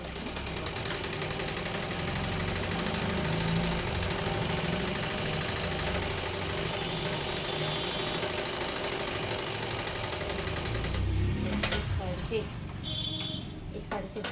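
A sewing machine stitching a suit runs with a steady, continuous mechanical whir for a long stretch, then stops near the end, leaving a few clicks and handling sounds, and someone talks over it.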